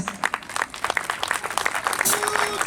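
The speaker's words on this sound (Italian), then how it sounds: "adesso con il vostro applauso io vi vorrei presentare il sax di Davide Crespi." Crowd applause at an outdoor summer orchestra dance concert in San Martino di Lupari, greeting a saxophonist: a steady patter of many hands clapping for nearly three seconds, with a voice briefly audible amid it.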